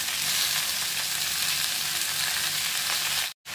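Rooftop-garden greens fry loudly in mustard oil with chopped onion, garlic and green chilli, giving a dense, continuous close-up sizzle with no voices. The sound cuts out abruptly near the end before returning.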